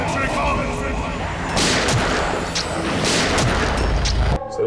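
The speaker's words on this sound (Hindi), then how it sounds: "उन्होंने उस पर गोली चलाई" Gunfire in a Hindi TV crime drama scene plays as several loud booming shots over a tense dramatic music bed, each blast ringing out among dense layered sound.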